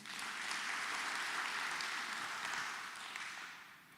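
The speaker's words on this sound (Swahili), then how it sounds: "Siupigie Yesu makofi." A church congregation at the opening of an Easter convention applauds with a dense, sustained wash of many hands clapping, steady and fairly loud for several seconds before easing off slightly.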